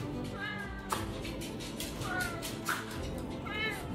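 A Savannah cat meows several times, rising and falling calls spaced a second or so apart, fairly close over a steady background hiss.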